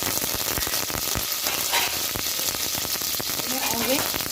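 Dense, close crackling and spitting of mustard seeds, whole red chilies and curry leaves sizzling in hot oil for a tempering, continuous throughout, with a faint murmur near the end.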